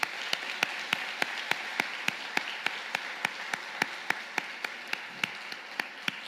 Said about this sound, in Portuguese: vamos aplaudir o Senhor, aplauda ele aí, aplaude.